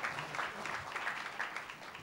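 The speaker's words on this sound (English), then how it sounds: "you can go ahead and clap" Light audience applause at a green building panel discussion, a soft, distant patter of scattered clapping lasting about two seconds with no talk.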